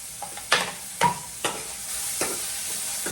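Garlic frying in a pan for potato gravy, a continuous close sizzle broken by several sharp scrapes of a spoon stirring at roughly half-second intervals.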